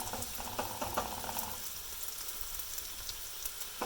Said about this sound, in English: So as you can see, the oil is starting to warm up a little bit. We're starting to heat these potatoes slightly.